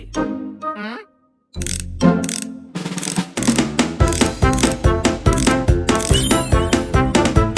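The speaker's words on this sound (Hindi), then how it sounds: "राइट के 4 स्क्रू खोलने हैं।" Cartoon-style sound effect of four screws being unscrewed: a short squeaky twist, a brief silence, then a long run of rapid, loud mechanical ratcheting clicks in a steady rhythm.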